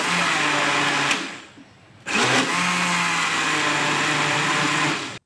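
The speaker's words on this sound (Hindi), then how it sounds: "आप इस सारे मिक्सचर को आप ब्लेंडर में डाल के" A blender mixing ice cream mixture whirs loudly and steadily, stops briefly for about a second, then starts up again and runs until it cuts off.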